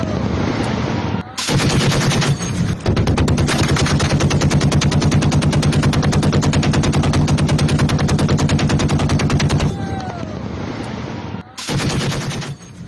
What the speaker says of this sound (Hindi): झड़प के बीच AK-47 से ऐसी गोलियां चली जैसे बॉर्डर पर दो देश की सेनाएं आमने सामने हों।